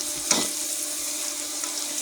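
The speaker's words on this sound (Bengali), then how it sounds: "আলু ভালো করে নেড়ে নেড়ে ভেজে নিতে হবে।" Potatoes fry in hot oil while being stirred, a steady bright sizzle with a brief scrape of the spoon near the start, close and fairly loud with no talk.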